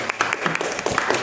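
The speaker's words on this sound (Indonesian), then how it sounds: "Silakan berikan tepuk tangan ke kelompok 1." A brief burst of classroom applause for a student group after a manual transmission diagnosis presentation, a dense, fairly close patter of clapping hands with no talk.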